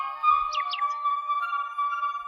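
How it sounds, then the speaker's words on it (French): A real nightingale and a mechanical bird sing out of tune together: a steady, sustained whistling tone runs throughout while a couple of quick, sharp chirps break in near the start, close and clear. "les deux oiseaux ne chantaient pas sur le même ton, et ce fut une terrible cacophonie"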